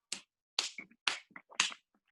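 Unusual-style hand claps, a series of sharp, dry snap-like bursts in irregular clusters of two or three, close and fairly quiet, with no talking.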